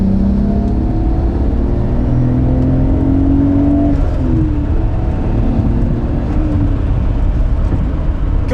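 A Nissan R32 GTR accelerates hard from inside, its engine note rising steeply in pitch through several gears with brief dips at each shift, loud, close and continuous with no speech.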